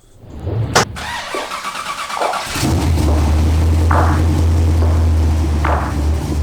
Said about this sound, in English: this is my 1978 Pontiac Trans Am hardtop in Martinique Blue